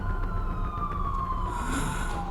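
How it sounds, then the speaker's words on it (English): Police car sirens wail in a video game as several cars speed down a road toward a large manor and screech to a halt on a gravel driveway, a steady siren tone gliding downward over a constant rumbling bed. "several police cars speed down the road, screeching to a halt on the graveled driveway"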